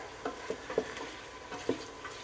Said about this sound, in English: Get her stirred up real nice. And let that saute down just a little bit.